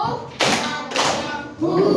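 Children in a classroom clap together in a group clapping game, with two dense bursts of many hands clapping at once and chatter in between.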